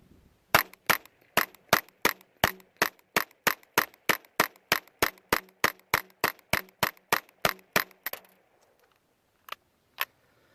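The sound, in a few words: 22LR Ruger Charger pistol firing standard velocity rounds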